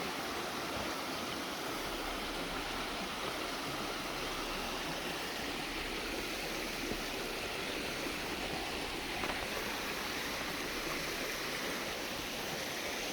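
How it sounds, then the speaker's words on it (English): A small overflow creek barely flowing along a trail near Blanchard Springs, a steady soft wash of trickling water that holds constant and faint throughout with no talk. "There's an overflow creek right here. It's barely flowing."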